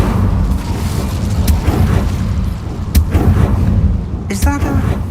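Incendio fire spell cast in Hogwarts Legacy: loud booming bursts and whooshing flame hits rumble through the scene, one sharp crack near the middle and a fizzing pulsed burst at the end, with a voice speaking over part of it.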